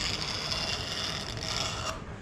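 A sharp hand-made knife scrapes clear coat off the wooden handle of a very old sledge hammer, a steady close rasping sound with no talking.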